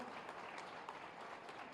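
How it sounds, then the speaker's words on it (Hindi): Audience applause for housing scheme beneficiaries receiving keys at a police lines ceremony in Moradabad, a steady, fairly faint wash of clapping from a gathered crowd with no voices over it. "जोरदार तालियां"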